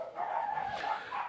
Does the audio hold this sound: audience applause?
no